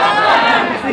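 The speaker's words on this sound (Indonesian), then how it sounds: "Semuanya buat kita tepuk tangan dan takbir." A crowd at an Islamic gathering shouts the takbir together in a loud, brief burst of massed voices. No distinct clapping stands out.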